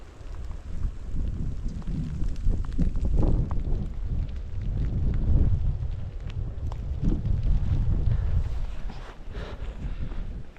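Blustery, damp wind on the Appalachian Trail roars steadily into the microphone with broad low rumbling gusts that swell and ease over about ten seconds, with no voices.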